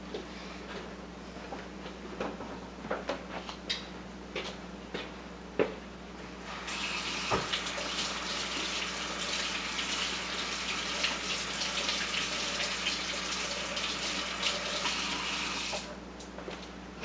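Water runs steadily from a tap to wet a hand-carved wood figure in a workshop, a continuous hiss lasting about ten seconds after a few earlier scattered knocks and clicks.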